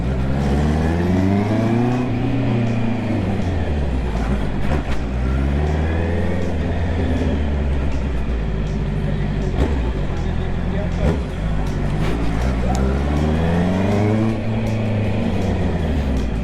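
A 2020 Honda CB650R motorcycle accelerates on a highway, its engine note climbing through repeated gear pulls in rising and falling sweeps. The engine is loud and close, with a voice talking over it.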